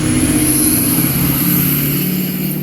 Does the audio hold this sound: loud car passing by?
yes